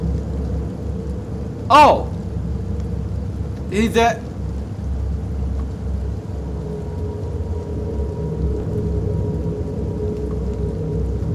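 Steady rain and a dark thunderstorm rumble through a horror video game scene, with two sharp bursts cutting in early over the constant low wash of rain, while someone speaks and exclaims over it.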